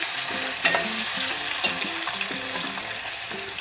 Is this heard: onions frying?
yes